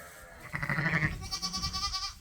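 Sheep bleat during fall lambing on a farm, two drawn-out wavering calls in close succession, near and clear over a low background rumble.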